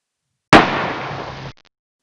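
A single sharp rifle shot cracks out during a Wyoming antelope hunt in sagebrush country, loud and sudden, with a roughly one-second rolling echo that cuts off, followed by faint clicks.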